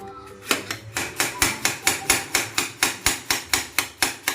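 Meat is chopped in a home kitchen with a heavy blade, about seventeen hard, evenly spaced thwacks coming close and loud in a steady rhythm.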